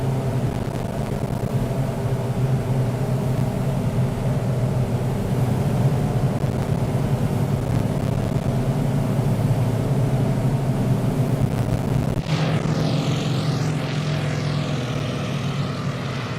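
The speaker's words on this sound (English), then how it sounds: "Nothing quite like the sound of a bunch of radial engines." Several radial aircraft engines drone steadily in Microsoft Flight Simulator 2020, a loud, continuous low rumble with layered propeller hum that holds throughout and shifts in tone near the end, with no talking.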